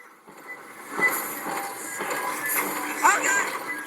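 A monstrous man-eating train in a video game rumbles and clatters with scraping metallic noise and a squeal toward the end, loud and continuous in a game soundscape.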